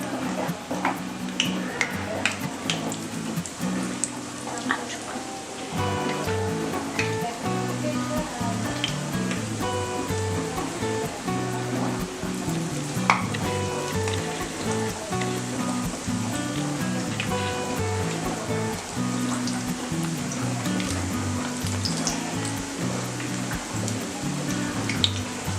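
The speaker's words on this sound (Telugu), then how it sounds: "Oil heat ఎక్కిందండి. బజ్జీ వేస్తున్నాను." Banana bajji fritters deep frying in a generous amount of hot oil, with a steady, continuous bubbling sizzle and crackle throughout. The frying is close and fairly loud and plays on its own.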